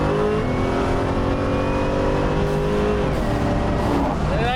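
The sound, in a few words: rebuilt Buick Regal G-body accelerating on the street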